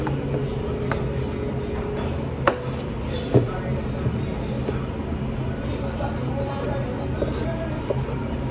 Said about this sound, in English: now I'm gonna go ahead and chop them because we have to make baked potatoes